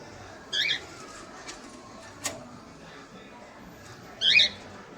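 A pet cockatiel gives two short, sharp squawks about four seconds apart, near and moderately loud against a quiet room with faint background hiss.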